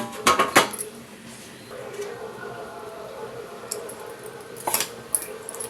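A boiled egg is set down on a plate and cut into pieces with a knife, giving a few sharp clinks at the start and again near the end, with quieter scraping in between. The sounds come from close by in a quiet kitchen.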